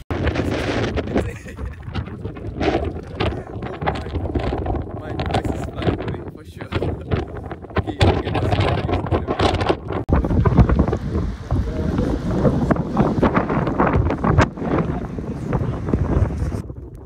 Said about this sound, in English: Thankfully, the wind wasn't strong enough to blow us off the cliff